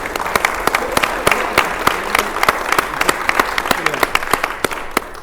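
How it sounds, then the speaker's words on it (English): Live audience at a Masonic education symposium in Tampa applauds for a Worshipful Master, dense steady clapping with sharp individual claps standing out, fairly close and loud, with a voice or two talking faintly underneath. "let's give a round of applause for your Worshipful Master"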